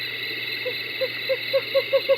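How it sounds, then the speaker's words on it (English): A Western Screech Owl gives a series of short hoots that speed up toward the end in a bouncing rhythm. The calls are clear and fairly close over a steady hum of night insects. "Western Screech Owl."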